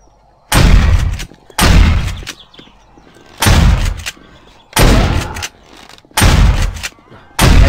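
Six heavy gunshots ring out in the survival game 7 Days to Die as a player fires on a deer, each a loud booming blast with a short tail, spaced roughly a second apart and standing alone without talk.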